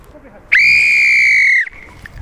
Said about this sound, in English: let's play to this whistle